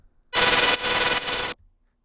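A harsh FM-modulated synth tone in a UK-style bass music production, one loud buzzy burst about a second long with gritty, dense overtones and slight pulsing, heard alone.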